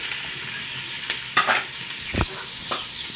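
Carrots for fish fried rice stir-fried in a pan, a steady sizzle broken by a few scraping stirs and one louder thump, close and alone.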